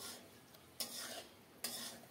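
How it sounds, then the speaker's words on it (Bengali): Mixed vegetables with chopped coriander are stirred in a pan: two distinct scraping strokes over a quiet, low sizzle, close and fairly soft, with no voices. "ভালোভাবে নেড়ে চেড়ে মিশিয়ে"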